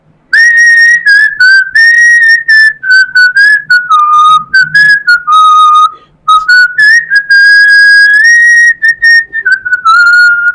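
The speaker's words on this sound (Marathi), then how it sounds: "मी शिट्टीतून गाणं म्हणून दाखवणार" A person whistles a song alone, a clear, loud melodic tune of sustained and shifting notes with short breaths between phrases, close up and steady throughout.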